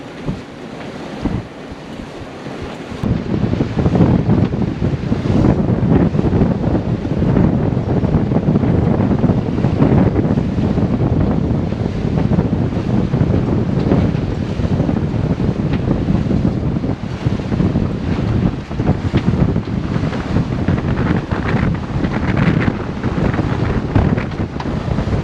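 Strong wind buffeting the microphone on a sailboat at sea in about 24 knots of wind, with steady roaring gusts and water rushing past the hull, loud and continuous throughout with no talking.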